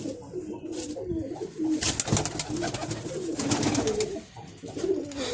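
Pigeons, including one with both shoulders dyed red, coo continuously in deep, rolling, throaty calls, close by, with scattered rustling and flutter-like noises mixed in.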